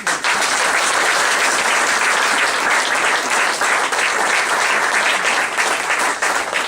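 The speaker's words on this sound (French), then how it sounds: "On applaudit." Steady, loud applause from an audience at a Moroccan political prisoners' sponsorship campaign event, continuous dense clapping with no pause throughout.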